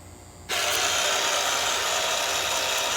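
Welder wire feeder kicks on abruptly after a quiet half second and runs as a loud, steady mechanical whir with faint rattling as the wire feeds through.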